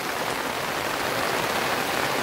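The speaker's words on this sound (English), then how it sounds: "raining in Kauai" Steady rain falls in Kauai, a dense, even hiss of drops that stays constant throughout with no voices.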